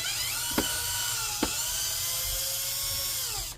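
A power drill whines steadily at close range on a workbench during repair of a Bissell Cleanview Swivel Rewind Pet Reach vacuum, with two sharp clicks early on and the motor winding down at the end.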